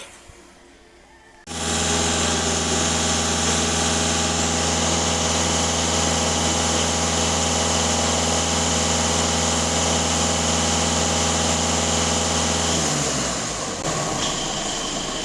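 A Skoda 2.0 TDI diesel engine with a particulate filter being cleaned without removal kicks in suddenly and holds a loud, steady high-rev drone with a bright whine. Near the end it drops in pitch as revs fall back.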